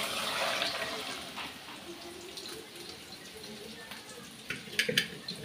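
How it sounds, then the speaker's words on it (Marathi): Cooked dal water being poured into a pan of oil-separated masala, making a steady liquid pouring and sizzling splash that fades slightly, with a few clinks near the end. "आता मी इथे जे पाणी ठेवलेलं ना, डाळ शिजवलेलं, ते टाकून घेणार आहे."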